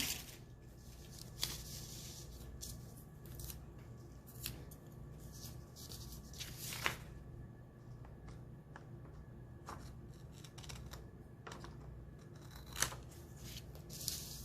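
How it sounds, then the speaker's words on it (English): Paper pieces being cut out with scissors for a 3D house sketch; quiet, scattered snips and rustles spread across the stretch, with a couple of sharper clicks standing above a steady low hum. "So then once you cut all of these out,"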